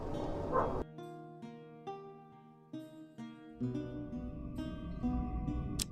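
Game dog in Hand of Fate giving several short, clipped barks and yips over a tonal music backdrop, with no talking.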